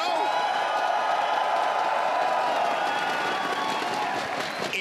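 A live esports crowd at the Apex Legends ALGS Year 4 Split 1 Playoffs grand finals cheers and applauds in a dense, steady roar that fills the hall and barely fades before a slight dip at the end.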